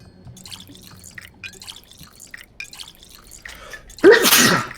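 A single loud, sharp sneeze bursts out near the end, following a few seconds of quiet dripping and soft background noise.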